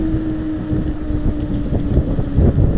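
Wind buffets the microphone while riding a bike outdoors on a breezy day, a steady loud low rumble with gusting swells and no talk.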